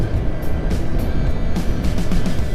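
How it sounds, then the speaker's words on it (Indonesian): A vegetable truck rolls past on a wide hotmix road, its engine rumble loud and close, steady and broad for a few seconds. "Truk sayur gitu."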